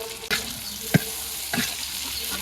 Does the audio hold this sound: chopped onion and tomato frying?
yes